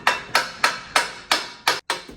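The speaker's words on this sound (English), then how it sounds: "We're just gonna get a hammer." A hammer pounds metal on an old Squarebody Chevy K10 truck, six sharp, ringing blows struck at a steady, even pace, each with a brief metallic decay, close and loud with no talk.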